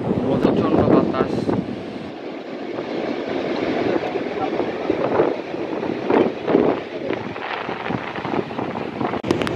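Strong wind buffets the microphone on the beach at Cox's Bazar during rain, a loud continuous roar with gusty surges throughout, mixed with crashing surf and voices talking.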